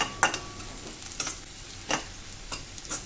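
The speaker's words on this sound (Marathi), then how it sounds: "तिखट आपलं हे मसाला घालून चांगला तेलात भाजून घ्यायचं असं व्यवस्थित." Onion, garlic and chilli masala frying in oil in a pan for kandvani, a soft continuous sizzle broken by several clinking scrapes of the stirring spoon, close and with no talk.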